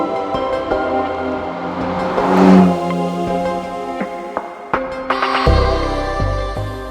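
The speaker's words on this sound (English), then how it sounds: "The engine in it is called Nettuno" A Maserati MC20's 3-litre Nettuno twin-turbo V6 revs in bursts, swelling and falling with sharp blips, then a deep low rumble near the end, heard close with no talk.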